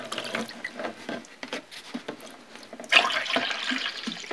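Liquid pours into a container to submerge a Bridgeport rotary table part during a teardown and cleanup, a steady splashing fill that grows louder and fuller partway through, with no talk over it.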